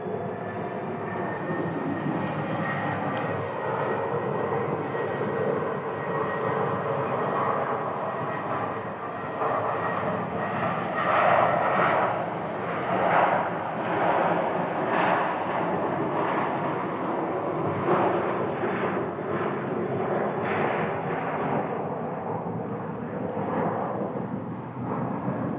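An airliner's engines roar steadily at Sky Harbor airport, a broad sustained rumble that swells and holds at moderate distance, with no talk over it.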